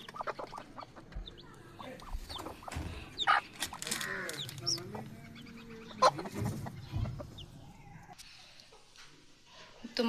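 A hen sitting with her chicks, giving soft intermittent clucks and chick peeps at close range, with someone talking over them and faint background sounds.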